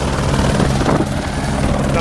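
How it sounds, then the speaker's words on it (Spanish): A helicopter at the Le Mans circuit during the 24 Hours of Le Mans gives a loud, steady, close-up roar of rotor and engine noise throughout, with possible voices buried beneath it. "Estamos a punto de subirnos al helicóptero para conocer el circuito"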